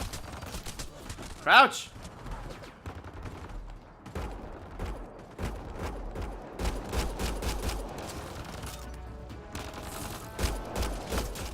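Gunfire in Mass Effect: Andromeda, with bursts of rapid shots and scattered single cracks mixed with game effects, and a voice speaking briefly among the shooting.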